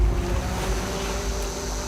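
Sea waves washing on an island shore, a continuous rushing surf with wind buffeting the microphone, steady and fairly loud, no voices.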